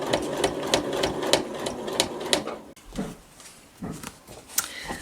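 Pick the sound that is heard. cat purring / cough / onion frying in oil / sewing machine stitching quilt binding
sewing machine stitching quilt binding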